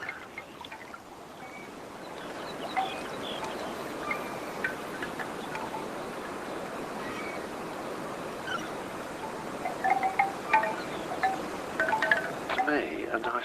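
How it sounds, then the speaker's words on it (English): Wind blowing outdoors on a warm sunny day, a low steady rush with faint scattered ticks and rustles rising toward the end, quiet and distant. "a nice day is when there's a wind blowing"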